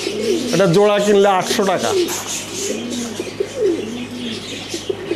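Pigeons for sale, Sirazi Lahori and Lakkha breeds, cooing softly nearby in repeated low calls while someone speaks loudly over them.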